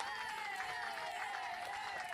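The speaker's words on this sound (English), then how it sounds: "Big round of applause from all the people here in the stands and around" Spectators in the stands at a softball game applauding, a dense continuous wash of clapping and crowd noise throughout, with a faint tonal whine running underneath.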